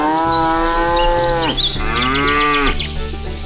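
A toy cow gives off long, loud electronic moos with a steady mechanical tone, two sustained calls close to the listener that bend downward at their ends, with no talking over them.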